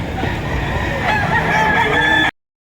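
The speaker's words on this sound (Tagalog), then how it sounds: "pero napakarami pa rin manok dito" Several gamecocks crow loudly and close by, their calls overlapping, with hens clucking underneath, until the sound cuts off abruptly, at a cockfighting gathering in Lipa, Batangas.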